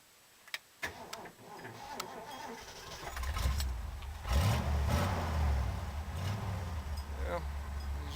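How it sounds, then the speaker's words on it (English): A 1968 Ford Bronco engine cranks and then catches after a few ticks and clicks, settling into a low, close idle rumble, with a voice faintly audible nearby. "40-year-old vehicle sometimes takes a little coaxing to get started, even after it's up to operating temperature"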